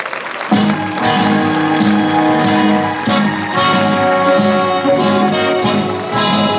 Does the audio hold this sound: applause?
yes